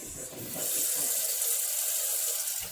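Water gushes steadily from a tap into a pot nearby, a constant hissing stream with no talking.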